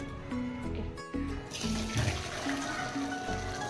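Water from freshly boiled potatoes is drained off through a strainer in a home kitchen, giving a close, steady rushing pour that swells louder midway and continues to the end.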